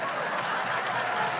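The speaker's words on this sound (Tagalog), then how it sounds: "Palakpak po tayong lahat, ha?" Live comedy show crowd in Winnipeg clapping steadily, a dense, even wash of applause filling the whole short stretch without pause.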